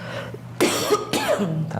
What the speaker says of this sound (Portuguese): eu vou tossir de novo